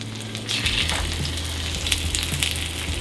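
Vegan salmon fillets fry skin side down in a hot pan with a dense, steady sizzle that swells as the second fillet goes in, close and continuous with no talking.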